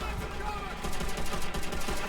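Rapid bursts of gunfire in Call of Duty: World at War rattle continuously over a dense, noisy background, with a voice occasionally audible beneath.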